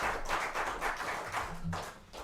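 An audience claps after a live song performance, a steady, moderately loud patter of hands that rises and falls in a few waves, with no talking.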